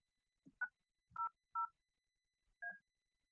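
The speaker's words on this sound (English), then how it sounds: "I'm dialing 900 to get it to dial the number because it's internal" Four short telephone keypad tones, each a clean two-note beep at uneven spacing, dialing on an internal office phone system in an otherwise quiet room.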